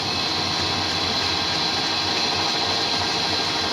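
A lathe takes a light cut on a handmade chopper wheel spindle, giving a steady, continuous machining hum and whir at close range with no break and no talking.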